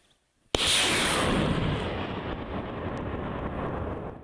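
A sudden loud blast of a rocket launch after a moment of silence, followed by a sustained roaring rush that slowly fades over several seconds.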